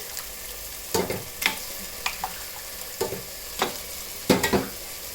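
Mutton pieces seasoned with salt and turmeric being sautéed in a pan, with a low, steady sizzle broken by repeated sharp spatula scrapes and clanks at an uneven rhythm, up close and without voices.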